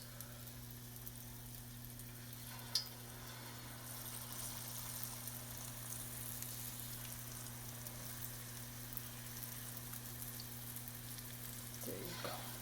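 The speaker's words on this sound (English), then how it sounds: "you're going to be removing the zeppolis from the hot oil" Zeppole dough frying in hot oil makes a faint, continuous sizzle with a steady low hum beneath it, broken once by a brief click, and no one speaks.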